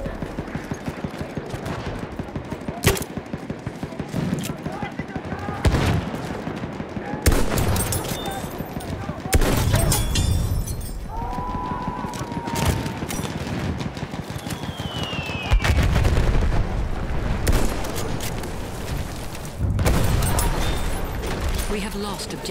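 Gunfire from a World War One video game, with bursts of machine-gun fire and other shots mixed into a loud, dense battle din, while voices shout over it throughout.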